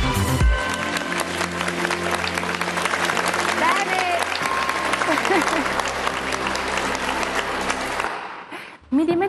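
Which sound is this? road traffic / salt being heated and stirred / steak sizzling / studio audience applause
studio audience applause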